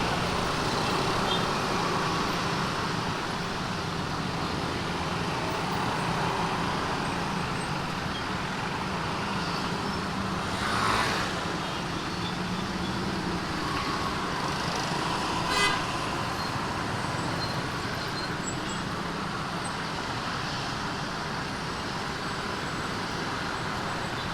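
Traffic jam road noise from a motorbike in slow congested traffic, a constant dense engine and road rumble with a couple of short distant horn toots, no talking.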